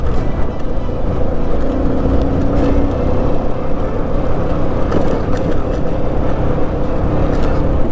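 A Haojin Rico HJ150-28 motorcycle engine drones steadily while riding, mixed with a broadband rush of wind and road noise that stays loud and constant throughout.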